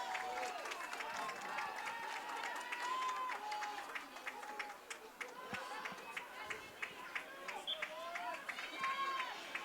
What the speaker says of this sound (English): They come off to a nice round of applause.